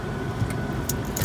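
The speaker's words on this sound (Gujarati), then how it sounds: "ગાડી થઈ ગઈ ચાલુ" A car engine running just after it starts, a steady close low hum with a faint jingle of keys, brief and with no talk.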